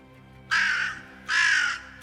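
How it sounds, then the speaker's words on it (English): Two loud crow caws ring out nearby, each a harsh drawn-out call about half a second long with a short pause between them, no voices present. "as you do, you hear some cawing of crows."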